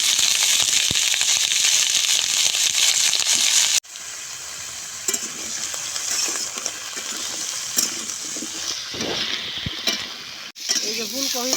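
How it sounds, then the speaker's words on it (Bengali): Potato and cauliflower fry in hot oil in a village-style kitchen, giving a loud, dense sizzle with sharp crackles and pops close by, briefly cut off twice, with no speech heard. "এই যে ফুলকপি বাজাইয়ে গেছে সুন্দর করে"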